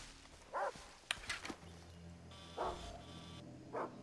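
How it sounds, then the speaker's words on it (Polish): Dogs in the open-world shooter Far Cry 3: three short, faint barks spaced a second or so apart over a quiet background, with a brief mechanical clatter between the first two. "Jezu, pies, no bo Jezu, i tu trzy psy. Cztery psy."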